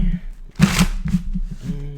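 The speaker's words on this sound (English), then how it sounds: "Let me shuffle this real quick." Tarot deck being shuffled by hand, a quick crisp riffle of cards lasting about a second, close to the microphone, with a voice speaking around it.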